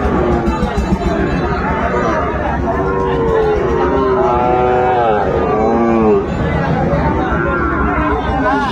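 A Sahiwal bull calf at a cattle market gives one drawn-out moo in the middle, loud and near, amid steady crowd chatter and people talking throughout.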